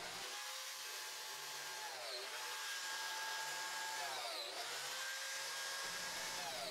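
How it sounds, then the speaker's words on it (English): Biscuit joiner cutting slots in wooden boards for a TV stand: a continuous, fairly faint high motor whine that dips in pitch a couple of times as the blade bites, running without talk. "I clamped the board in place and went down the line cutting a slot at each point."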